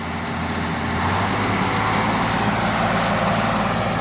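A tractor engine idles steadily during baling at harvest, a loud, constant low rumble close by with no talk.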